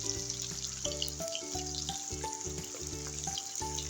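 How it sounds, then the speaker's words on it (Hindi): Onions sizzle in hot oil in a pan while cooking aloo gobi. A constant soft frying hiss sits beneath louder background music with a steady melodic line. "इसमें डालते हैं प्याज। तो थोड़ी देर के लिए फ्राई करेंगे"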